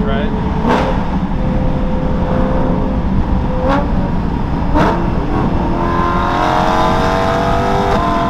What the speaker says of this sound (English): there's a little downshift under the bridge